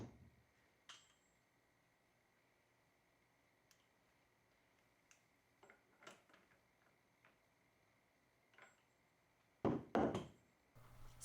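A 1/2-inch drive wrench with a 35mm socket tightening a fork assembly gives sparse, sharp clicks and ticks spaced out over a quiet background, ending in a louder cluster of rattling clicks.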